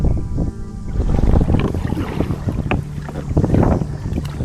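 Strong wind buffets the microphone with loud, gusting rumble, over faint splashing water from a kayak paddling against the current on the Suwannee River.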